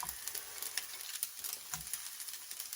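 Lettuce stir-frying in a hot pan for crab fried rice, a steady close sizzle with soft scraping and stirring strokes throughout, no voices.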